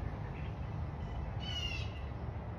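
A single harsh bird call rings out briefly over a steady, windy outdoor rumble.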